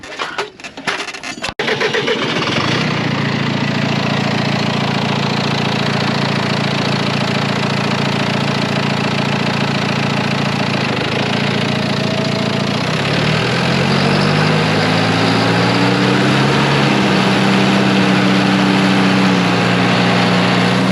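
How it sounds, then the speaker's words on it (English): A tractor engine turns over and settles into a loud, steady run, then its tone shifts and climbs as the PTO is engaged during haymaking in western South Dakota; the drone is close and continuous, with no talk. "I'm gonna turn on the PTO"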